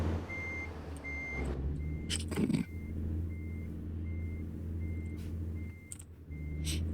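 A vehicle's reversing alarm beeps at a steady, evenly spaced rhythm over a low idling engine rumble, with a brief louder clatter partway through.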